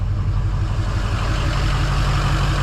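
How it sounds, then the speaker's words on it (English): A truck engine idles steadily and loudly at close range, with a constant low rumble and no talk over it. "And we're idling."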